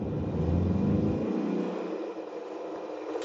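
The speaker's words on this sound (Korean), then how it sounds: "엔진 RPM이 조금 높아지면서 거친 엔진음이 넘어오네요." Rough, strained hybrid car engine revving as it accelerates up a hill, loud at first and then dropping away to a quieter hum after a couple of seconds.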